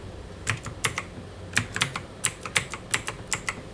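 Rapid keystrokes on a computer keyboard come in short uneven bursts of close, crisp clicks with brief pauses between groups, and no voice over them.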